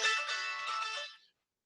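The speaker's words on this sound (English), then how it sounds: "That's my phone ringing." A mobile phone ringtone plays alone, a short bright electronic melody lasting just over a second before cutting off, heard in a workshop during radiator removal and replacement.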